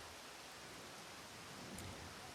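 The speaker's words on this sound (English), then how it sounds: "Oh, it's raining now." Steady, soft rain hiss in the fantasy game Of Frost and Flowers, an even wash of noise with no voices.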